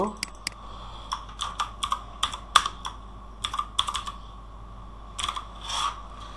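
Keys on a computer keyboard clack in short irregular bursts, close and fairly quiet, with a brief pause before a final quick flurry of typing.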